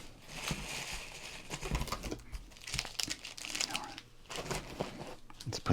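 Football card pack wrappers crinkle and tear in close, steady bursts of crackling plastic, with brief pauses between handfuls and no talking.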